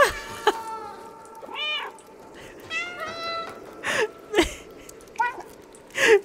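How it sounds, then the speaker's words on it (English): The cat in the video game Stray meows repeatedly, several short, clear calls spaced across the moment, mixed with sharp clicks and taps, close and fairly loud. "Press alt, left alt to meow!"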